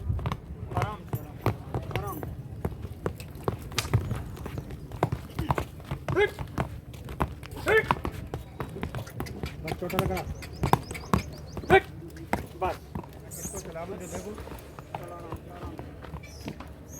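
Hooves of a Nukra stallion dancing horse clop on the ground in an uneven walking rhythm, close by, with someone talking continuously over the steps.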